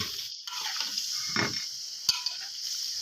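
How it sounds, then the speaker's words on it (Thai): Pork belly stir-frying with curry paste in a wok, a soft steady sizzle with occasional scraping stirs and a brief clink of the utensil against the pan. "ก็ใส่หมูสามชั้นลงไปผัดนะครับผม"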